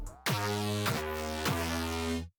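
A distorted 808 synth bass patch built in Vital within FL Studio plays three heavy sliding notes, each dropping in pitch from a bright attack into a sustained, buzzy low tone, loud and alone.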